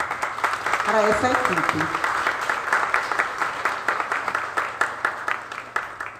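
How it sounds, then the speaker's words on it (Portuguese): Applause from the plenary at a food security conference in Sapeaçu, a broad steady patter of many hands filling the room under a voice that speaks over it early on, then fading unevenly toward the end. "Então eu gostaria de pedir à plenária, né, uma salva de palmas para essa"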